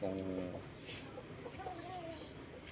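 Gamecock roosters for sale, of unknown bloodline, cluck and call briefly from a close yard, the bird sounds scattered and fairly faint beneath someone talking.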